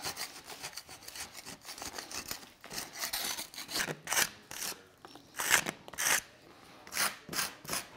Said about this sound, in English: we just take a knife over it